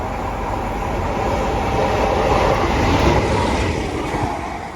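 A heavy Class 47 diesel locomotive rumbles past on its own with a steady, loud roar of engine and rolling wheels, building slightly as it draws level.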